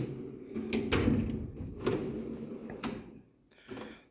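A metal Kamasa toolbox drawer holding 3/8 sockets slides open and shut several times, with rattling contents and short scraping bursts, close by.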